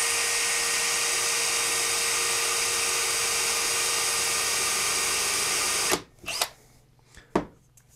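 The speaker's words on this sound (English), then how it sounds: "So I want to drill this as straight up and down as possible" A power drill whines loudly and steadily for about six seconds, drilling a fret position marker hole in a steel-string guitar fretboard, then stops, followed by a few short clicks and taps.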